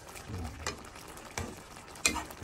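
A salmon belly dish is stirred in a frying pan, with a steady soft sizzle underneath and a few distinct scraping strokes of the utensil, the sharpest one near the end.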